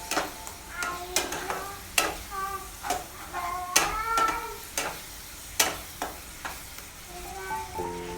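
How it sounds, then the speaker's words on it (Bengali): Prawn malai curry gravy sautéing with ginger garlic paste, a low sizzle beneath repeated sharp metallic clinks and scrapes of stirring, close by; some faint voice or tonal sounds appear between strokes. "গ্রেভিটা 2 থেকে 3 মিনিট কষিয়ে নিতে হবে।"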